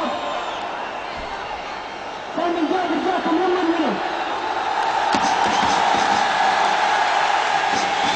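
Large crowd of Al Hilal supporters in a stadium at a football match, a steady loud roar with chanting swells that builds partway through, with a commentator talking over it.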